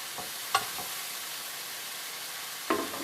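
Zucchini cooks in a pan with garlic, a soft steady sizzle close by, broken by a couple of brief scraping stirs.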